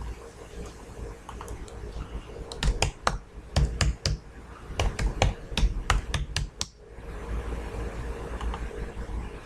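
Username and password are typed on a computer keyboard in quick bursts of crisp, close key clicks, separated by short pauses, over a low steady room hum.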